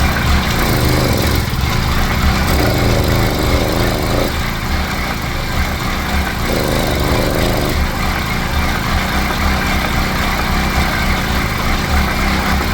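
An 80cc motorized bicycle engine runs steadily, loud and close, with a buzzing drone that rises and falls slightly as the throttle varies.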